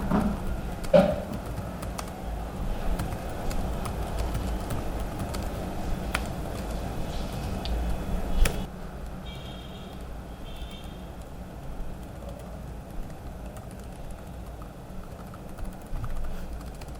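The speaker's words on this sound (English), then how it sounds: "this is one of the quietest and oddly satisfying keyboards to type on" Soft, quiet key presses on an ASUS ZenBook 14 UX434F laptop keyboard, faint scattered taps over a low background hum, with a couple of sharper clicks standing out.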